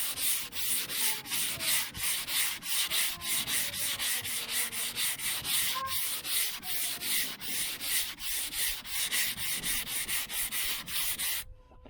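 Sandpaper on a block rubbing over guide coat on the body of a 2002 Chevrolet Avalanche, loud rhythmic back-and-forth strokes repeating steadily and close by.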